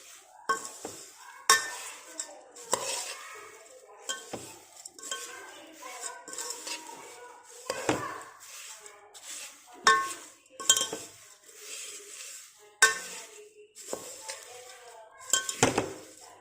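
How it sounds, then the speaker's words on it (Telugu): Paper poha being stirred in a pan with a chilli powder seasoning, a spoon scraping and clinking against the metal in irregular close strokes, with faint sizzling underneath. "ఇలాగా కలుపుతూనే ఉండాలి."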